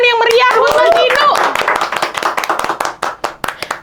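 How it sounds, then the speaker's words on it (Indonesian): Audience clapping at a talk show, sharp claps beginning under a voice, then thinning into loud, distinct separate claps near the end. "Tepuk tangan yang meriah buat Mas Inu"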